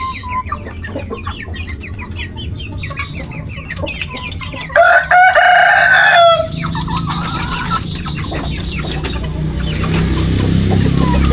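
Three-month-old chickens and young roosters cluck and chatter up close, with one brief crow partway through, over a steady farmyard background.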